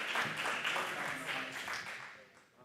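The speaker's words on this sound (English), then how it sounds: "let's have a really big round of applause for them" Clapping from the crowd at a marketing conference in Dubai, with a round of applause that swells and then tapers off. Voices and a tonal background hum can be heard beneath it.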